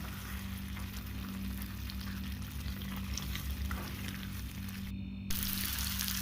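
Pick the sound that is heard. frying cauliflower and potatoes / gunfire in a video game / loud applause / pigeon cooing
frying cauliflower and potatoes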